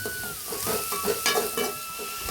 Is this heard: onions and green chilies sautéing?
yes